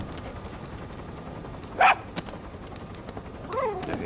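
A dog in the video game Metal Gear Solid V gives a short bark, then a second softer yelp a moment later, both fairly faint over steady game ambience.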